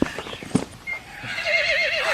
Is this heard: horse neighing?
yes